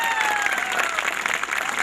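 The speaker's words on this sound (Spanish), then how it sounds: "Fuerte ese aplauso" Steady crowd applause at a live comedy show in Coronel Oviedo, a dense wash of clapping at moderate level with a thin tone or whistle running through it.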